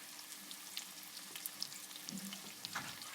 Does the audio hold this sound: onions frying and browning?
yes